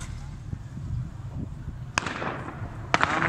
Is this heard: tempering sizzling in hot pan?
no